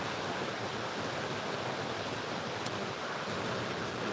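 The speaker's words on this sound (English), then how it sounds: "just down by the river. So as you can tell, nicely overflowing because of all the rain we've had and the snow melting" Broad, steady rushing of a river swollen and overflowing after heavy rain and snowmelt, a dense continuous wash of water noise heard close and unbroken throughout.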